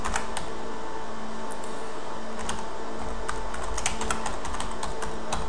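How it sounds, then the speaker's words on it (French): Typing on a computer keyboard: steady irregular key clicks over a constant fan-like background hiss, close and moderately quiet, with no talking. "J'ai ici la possibilité de saisir du texte."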